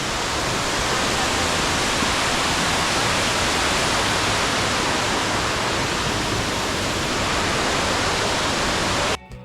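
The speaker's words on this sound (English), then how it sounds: "And here's the wonderful waterfall." Dunn's River Falls waterfall in Jamaica roaring as a loud, steady broadband rush of falling water that continues unbroken, close and dominant, cutting off abruptly at the very end.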